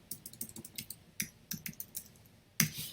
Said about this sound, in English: So let's just type in weekly,